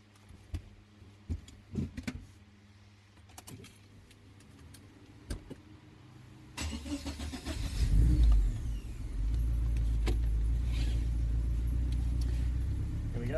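From the back seat of a Subaru with a turbocharged EA82T engine on Megasquirt MS3x management, keys jangle, then the engine starts, revs once and settles into a steady running drone as the car pulls away.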